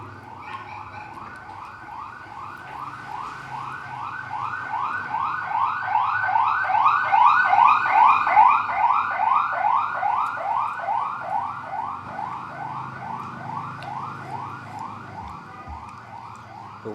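An ambulance siren wails past in a fast, rapidly cycling yelp, growing louder toward the middle and then fading as it moves off, with no voices over it.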